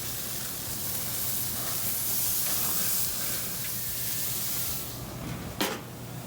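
Meat searing on a gas grill gives off a steady broadband sizzle and hiss that runs continuously at moderate volume, with a brief sharp knock close to the end.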